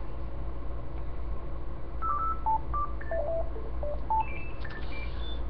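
A mobile phone left switched on rings with a melodic electronic ringtone, a quick run of short beeping notes that step up and down in pitch, sounding over a steady low background hum with no talking.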